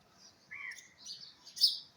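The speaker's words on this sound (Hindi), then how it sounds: "चिड़ियों की भागदौड़ अपना रिस्क तलाश करने के लिए शुरू हो चुकी है। देखिए कितना चहचहा रही हैं।" Small birds chirp and tweet outdoors on a spring morning among flowering plants, several short, bright calls in quick bursts, moderately faint, with no talking.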